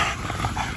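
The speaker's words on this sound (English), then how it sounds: "Check out them snow puppies" Bully puppies in a kennel give short growls and barks, fairly close, a steady noisy scuffle of small dogs with no talk over it.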